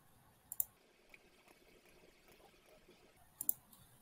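Two quick pairs of computer mouse clicks, one early and one near the end, set points with the Illustrator pen tool; the clicks are crisp and close in an otherwise quiet room.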